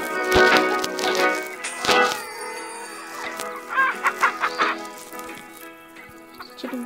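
Chickens cluck and a rooster crows in the farming video game Hay Day, with bright cartoonish clucks and game chimes over a light musical background, no voices.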